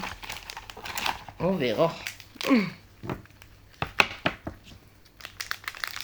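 A plastic wrapper around Oreo wafers is crinkled and torn open in a series of close, sharp crackling rustles, broken up by a voice speaking in between.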